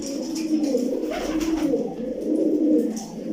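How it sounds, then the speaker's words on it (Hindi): Pigeons coo in low, soft repeated phrases, a large pigeon among a loft of birds, continuous and fairly close with no talk. "ये 8 नंबर कबूतर है, जो बड़ा कबूतर है ना मेन"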